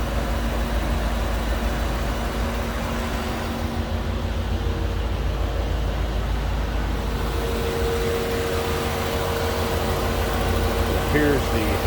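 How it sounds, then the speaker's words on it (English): The air conditioning compressor turns in the engine bay of a 1990 Chevrolet Corvette Coupe with a 5.7-liter port-injected V8, a steady low mechanical hum with faint tonal whine held evenly throughout, close and constant. "Compressor's turning."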